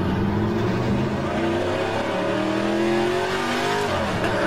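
A classic Aussie Legends race car in rFactor 2 revs hard and steadily, its engine note rising and climbing through the gears, loud and continuous with a slight tyre edge.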